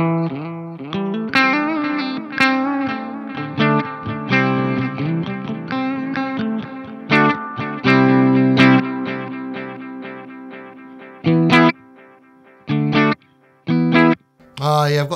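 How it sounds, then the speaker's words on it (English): An electric guitar plays loud, driven chords and notes through a Laney Lionheart Foundry Super 60 112 amp with a space echo in the effects loop. Phrases ring out, then stop in short bursts near the end. "I've got this space echo in the effects loop."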